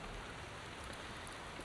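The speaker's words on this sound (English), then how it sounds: "Out into the pouring rain." Pouring rain falls outdoors beside a new 2026 Jeep Cherokee, a dense, even hiss of steady rainfall with no breaks, faint and without any voices.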